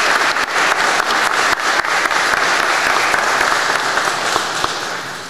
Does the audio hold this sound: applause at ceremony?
yes